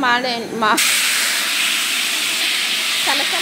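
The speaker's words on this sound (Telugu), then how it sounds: "కాగే నూనెలో పుదీనా, ఉల్లిగడ్డ, పచ్చిమిర్చి, చెక్క, లవంగ, ఇలాచి" Mint, onion, green chilies, cinnamon, cloves and cardamom dropped into hot oil, setting off a loud sudden burst of sizzling hiss that holds steady, with brief talking before and just after.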